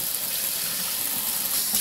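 A pull-down kitchen faucet's sprayer hisses with a steady, bright rush of running water, close and continuous.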